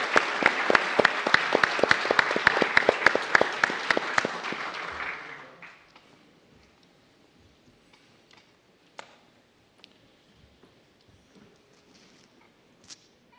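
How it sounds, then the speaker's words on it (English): A summit audience applauds the presenters of a robotics and autonomous systems panel. Close, crisp clapping rings out for about five seconds, then fades to a hushed room with a few stray claps and small knocks. "we'll conclude this first panel, Robotics and Autonomous Systems, with a very warmful round of applause for our presenters"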